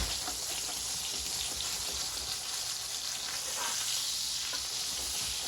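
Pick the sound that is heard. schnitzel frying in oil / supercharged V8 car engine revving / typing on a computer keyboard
schnitzel frying in oil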